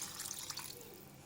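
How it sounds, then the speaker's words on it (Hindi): Running tap water rinses half a kilo of raw mutton on the bone, a faint, steady splashing stream with light drips and no voices. "पानी के साथ इसको वॉश कर लिया।"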